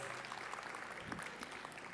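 Continuous clapping from a crowd at a convocation ceremony, a dense steady patter of many hands at moderate distance, with no voices standing out.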